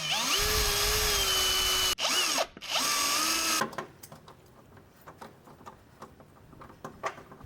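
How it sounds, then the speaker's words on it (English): A power drill with a 3mm bit whirs loudly for a few seconds while drilling a screw hole to fit rock lights on a Suzuki Jimny, stops briefly, then whines again before cutting off, followed by faint ticking and tapping. "I'm just going to screw this last hole with 3mm drill bit just to get it started"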